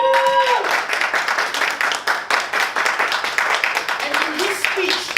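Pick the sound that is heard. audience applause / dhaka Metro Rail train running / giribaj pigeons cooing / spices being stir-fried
audience applause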